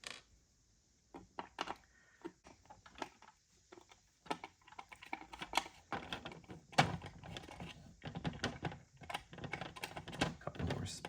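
Screws are unscrewed from the base holding a Maisto 1/18 scale 2004 Chevrolet Impala SS model car. Small irregular clicks and plastic taps come close, quiet and scattered, growing busier toward the end.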